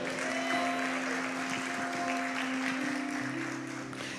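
A church congregation at a Quadrangular service claps together in steady, moderately distant applause, with a sustained organ or keyboard tone running underneath throughout.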